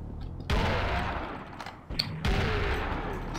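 Double-barrel shotgun blasts in the Serious Sam video game: two loud, booming shots about two seconds apart, each ringing out in a heavy sustained roar of combat noise, with no talking.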